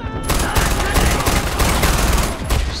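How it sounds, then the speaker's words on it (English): Rapid bursts of automatic gunfire and overlapping shots crackle loudly and densely throughout a firefight in the video game Far Cry 4, with a few short breaks between volleys. "Gunfire nearby!"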